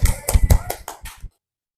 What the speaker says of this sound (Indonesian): Maaf, tepuk tangan untuk kelompok 1.